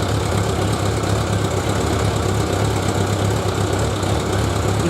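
An engine idling steadily at close range, a constant low droning hum with a faint regular pulse and no change in speed.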